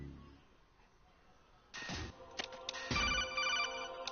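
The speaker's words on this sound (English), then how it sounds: "listen to that phone call" A telephone rings in the video game Metal Gear Solid 2, starting abruptly after a quiet stretch and repeating as a loud electronic ringing burst, with faint background noise.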